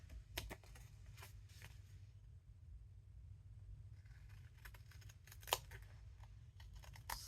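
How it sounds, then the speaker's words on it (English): Scissors snip a piece of file folder card during paper crafting, giving quiet, sharp clicks in two scattered clusters close by in an otherwise hushed room. "We have some scissors to snip this."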